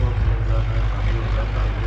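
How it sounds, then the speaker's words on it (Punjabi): A generator running steadily near a gurdwara, a constant low droning hum that holds at a moderate level without change for a couple of seconds. "ਜਨਰੇਟਰ ਚੱਲਦਾ ਜਨਰੇਟਰ ਮੈਂ ਕਿਹਾ ਟਰੈਕਟਰ ਆ ਕੋਈ"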